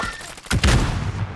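A burst of gunfire rings out in Call of Duty: Modern Warfare: a loud close crack followed by a dense rattle of shots and echo, preceded by a softer thump.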